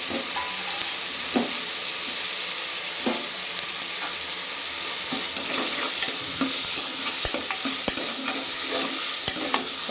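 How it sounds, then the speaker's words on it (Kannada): Raw jackfruit pieces frying in a pan with oil, giving a steady close sizzle with scattered crackles and occasional soft scrapes of stirring throughout. "ಒಂದು 2 ನಿಮಿಷ ಫ್ರೈ ಆಗಿ ಸ್ವಲ್ಪ ಹಸಿ ಸ್ಮೆಲ್ಲು ಹೋಗಲಿ"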